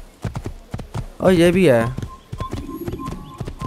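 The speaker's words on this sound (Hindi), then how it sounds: "मुझसे कंट्रोल नहीं हो रहा घोड़ा" A horse in Assassin's Creed 1 moves in steady clip-clopping hoof steps with a loud neigh in the middle, while someone talks over the sound.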